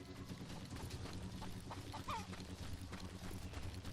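Horse hooves clip-clopping at the stables in Call of Juarez: Gunslinger, a soft rhythmic patter of steps under a low ambient hum.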